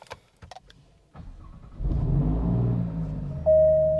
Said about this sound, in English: Let me go ahead and start the car now.